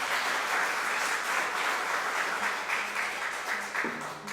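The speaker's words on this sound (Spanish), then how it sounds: "Dele ese aplauso al Señor." Church congregation applauding steadily, a dense wash of clapping that holds at even strength from start to finish with no voices standing out.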